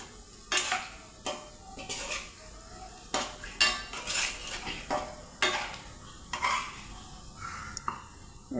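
Fried onions, browned crisp in a pan, are stirred and lifted out with a metal utensil: repeated sharp scrapes and clinks against the pan over a soft sizzle, close by and fairly quiet, with no talking.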